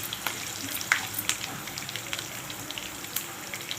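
Mustard seeds and curry leaves tempering in hot oil, a steady close crackling sizzle with scattered sharp pops, heard alone.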